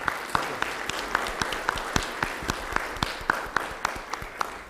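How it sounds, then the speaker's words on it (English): Audience applause for a chief guest at an insurance seminar, a steady wash of clapping with sharp individual claps standing out at an irregular rhythm, moderately close and heard alone without talk. "let us have a big round of applause for our chief guest"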